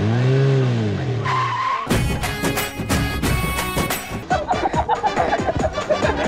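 A car revs, its tyres squeal in a loud skid, then it pulls away with a rapid burst of engine and road noise, close and dominant, with a brief tone-like sound before the skid.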